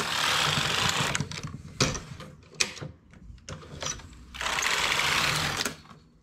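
A knitting machine working a lace stitch across the front needle bed: loud rasping carriage passes at the start and end, with clacks and knocks in between.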